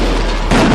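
Firecrackers go off during a street clash between protesters and police in Rome, a loud booming blast that thunders through heavy background noise, with a second sharper burst about halfway through.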